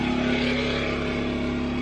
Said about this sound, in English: There's a generator outside.